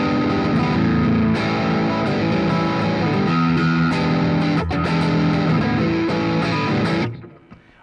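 Electric guitar played through the British 30 amp model, based on an Orange amp, on a Positive Grid Spark, a distorted, gain-heavy tone with sustained chords and notes ringing steadily and loud, then cutting off near the end.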